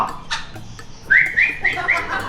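A caged Sumatran laughingthrush gives a series of clear, rising whistled calls, close and loud, over a faint background of other bird chirps.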